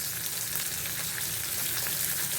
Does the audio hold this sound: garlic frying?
yes